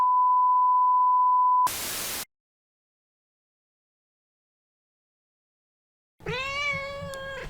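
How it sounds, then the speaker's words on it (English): A house cat lets out a single clear meow near the end, close and distinct, after a steady electronic beep, a short burst of static and a stretch of silence. "it appears my cat Kana, executive member of the Bun Squad, has something to tell you all"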